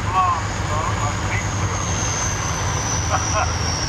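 A 1965 Mini Mo engine revs under the throttle with a low, steady rumble, close by and partly masked as people talk over it.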